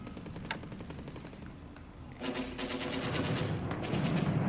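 Naval bombardment gunfire in the WWII Pacific strategy game War in the Pacific, a steady rattling patter of rapid shots that thickens and grows louder, continuous and without talk.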